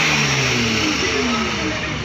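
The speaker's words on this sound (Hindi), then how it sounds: "फरारी को हमने स्टार्ट किए।" Ferrari car engine running and revving at a car wash in Gurgaon, a steady close mid-range engine drone with rising rev tones throughout, voices talking faintly over it.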